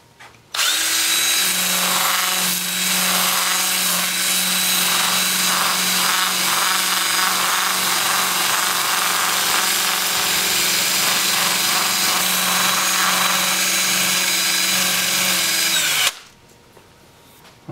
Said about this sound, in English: I'll switch to my 2-inch disc at 80 grit and start sanding the inside